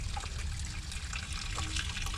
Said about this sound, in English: there's definitely water running here, and it sounds like it's running underneath as opposed to on top